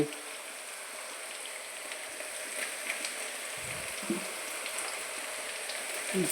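Chopped onion frying in a pan with minced garlic and cooked-down spices, making a steady crackling sizzle that runs evenly throughout with no talking.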